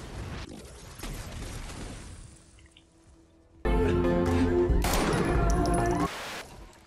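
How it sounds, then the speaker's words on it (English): Whisper .45 military pistol firing in Fortnite Save the World, a fast-firing semi-automatic needing a tap per shot, heard as bursts of game gunfire and effects after a quieter stretch, with no talk. "you will have to tap it every time in order to shoot. That's how fast the fire rate is."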